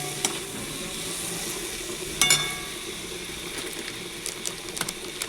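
Ginger, chili and cumin paste sizzles steadily in a pan with aubergine pieces, a continuous soft frying hiss broken by a few brief clinks and stirring scrapes, close and moderately quiet with no talk.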